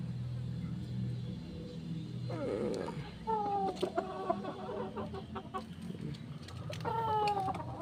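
Several chickens cluck nearby in short, repeated bursts over a low background rumble. No one speaks.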